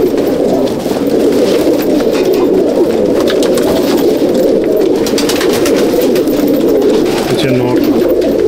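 Pigeons coo in a loft housing Chennai/Andhra Madrasi breed birds, a dense, continuous low throbbing of many birds close by, with other bird noises layered through it.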